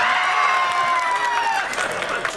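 A carnival audience clapping: scattered claps over a busy crowd murmur, with a sustained whistle-like tone that fades out and a rising patter of claps toward the end.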